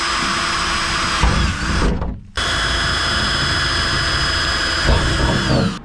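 A power drill bores holes through the side panel of a Vivaro campervan for a window fitting, a loud high whine heard up close with one brief break.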